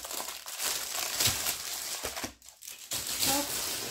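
Plastic packaging crinkles and crumples as a paint-by-number kit with a peony design is unwrapped, a steady close rustle with a short quiet gap partway through.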